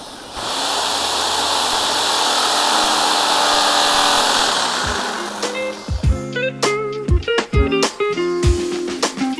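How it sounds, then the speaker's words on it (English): A big power drill bores a 16mm hole for a desk foot in an industrial-style office desk build, a loud sustained whir for about five seconds, then winding down into scattered clanks and knocks of handling metal. "we're going to use a 16mm drill to drill that hole out"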